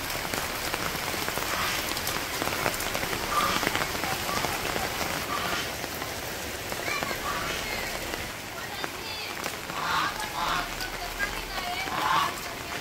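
Steady rain hammers village surfaces in rural Bangladesh, a dense, even hiss of drops that runs the whole time without pause, loud and close.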